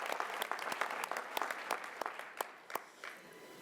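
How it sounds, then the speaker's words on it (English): Applause for a state legislator at a city State of the City event in Reno, scattered claps rising and then thinning out to a few last sharp claps at moderate distance. "give her a huge round of applause"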